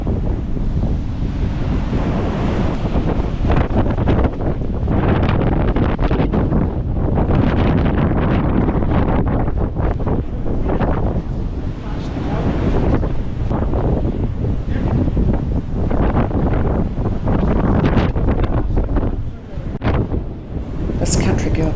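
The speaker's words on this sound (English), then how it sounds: "It's quite windy at this point" Strong wind buffeting the microphone in heavy, continuous gusts on a bridge in Brisbane, with a roar like surf or open water underneath.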